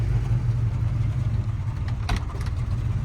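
A 1991 Jeep Grand Wagoneer engine idles with a low, uneven rumble that wavers as if struggling to keep running, steady and close throughout.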